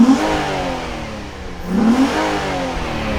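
A Nissan 350Z engine is revved while heard from the front, two rising throttle blips with a low, smooth exhaust drone that idles between them, close and fairly loud.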